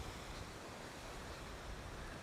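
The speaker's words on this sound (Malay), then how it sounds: "Nampak? Ada air terjun." A waterfall below a high cliff on a mountain climb, a faint, even broadband rush with no breaks, steady and distant, with no voices.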